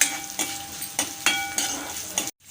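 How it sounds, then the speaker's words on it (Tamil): Chana dal frying in hot oil with mustard seeds, asafoetida and dried red chillies, a steady close sizzle broken by several sharp stirring scrapes and clinks of a spoon against the pan, ending in a brief silence. "கடலைப்பருப்பு வந்து நல்லா நிறம் மாறி வரட்டும் வறுத்துக்கலாம்"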